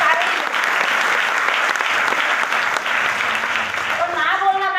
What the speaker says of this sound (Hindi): एक बार इनके लिए ताली।